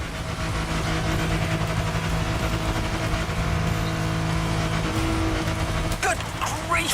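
Loud, continuous off-road car engine in the video game The Crew Motorfest roaring at speed, with revving and mechanical rattles, steady throughout with a brief change in tone near the end.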